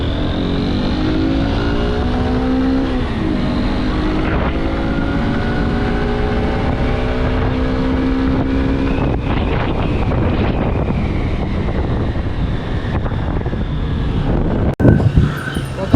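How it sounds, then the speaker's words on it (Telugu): A Honda Unicorn 160 motorcycle pulls away in first gear, its engine note rising steadily in pitch over several seconds under heavy wind rush, then dropping and settling as the ride continues, loud and close throughout. "సో ఫస్ట్ గేర్ వేసుకున్నాను. ఫస్ట్ అయితే ఇంజన్ పర్ఫార్మెన్స్ ఇనిషియల్ ఫుల్ చూద్దాం."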